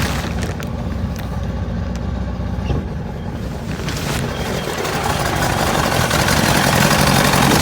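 A 1962 Johnson 75 hp outboard motor runs in forward gear, a loud continuous engine drone with a rough low rumble that holds steady and swells slightly toward the end.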